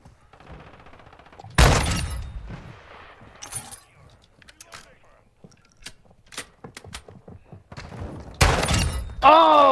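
Shotgun blasts in a Call of Duty multiplayer match: several loud, close booms, some in quick pairs, cut through the game's noise, with scattered fainter shots and clatter between them while players talk.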